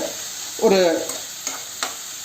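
Tomatoes are stirred into a frying pan for a tomato egg fry, with a burst of sizzling and one stirring scrape followed by a few sharp, short utensil taps against the pan.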